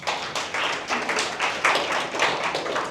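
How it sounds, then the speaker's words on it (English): At a farm program launch, a small audience claps in a steady, moderately loud round of applause with rhythmic pulses of hand claps, and nobody speaks over it. "I think she deserves a round of applause."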